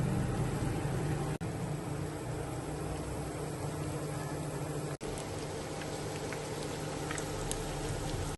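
Chicken lollipops deep-frying in hot oil make a steady, dense sizzle and crackle that holds at an even level throughout, with two brief sharp breaks in the noise.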